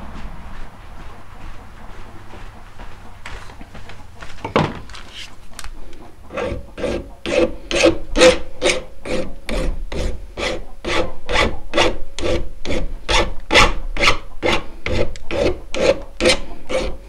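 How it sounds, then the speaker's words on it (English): A metal file breaks a sharp edge during a home crowning job, starting with a few scattered scrapes, then settling into a steady run of about twenty rhythmic rasping strokes, close and loud with no talking. "Now I'm just going to take a file and break that edge."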